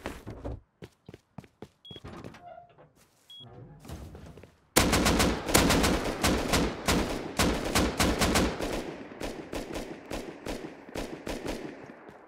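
Gunfire in the survival game Rust: scattered single shots at first, then a long dense barrage of rapid, loud automatic fire, with no voices over it.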